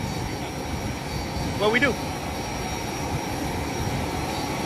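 Steady jet engine roar fills an airplane cabin, a constant broad drone underneath a brief exchange of voices.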